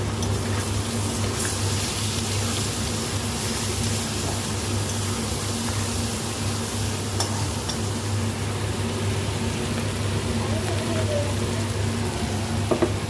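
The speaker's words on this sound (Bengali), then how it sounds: "একটু কাশ্মীরি লঙ্কা দিব, একটু লাল লাল করে ভাজবো আমি আলুটা" Potatoes fry with Kashmiri chilli for aloo dum, giving a continuous, even sizzling hiss with a low hum underneath and a few faint clicks, steady and unbroken with no talking.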